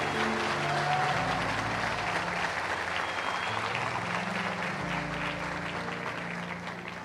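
A church congregation claps in sustained applause, a dense close patter that slowly fades toward the end, with a held low organ or keyboard chord underneath.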